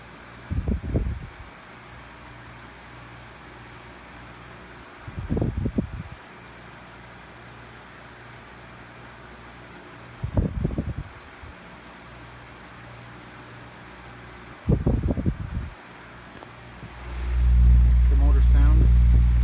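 1980s brown Lasko oscillating fan running with a steady low motor hum, broken by soft thumps every few seconds and a louder rumble near the end.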